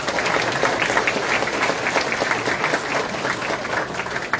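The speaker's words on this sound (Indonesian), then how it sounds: "Siapa di sini yang datang dengan kendaraan pribadi boleh tepuk tangan?" Audience at a public Q&A event with a presidential candidate claps in response to a show of hands, a dense continuous applause filling the room for a few seconds without speech.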